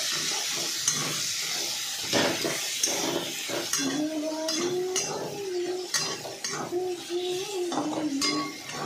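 Steady sizzling of spice paste frying on low flame in a pan, with scraping and clinking of a utensil stirring throughout; no voices.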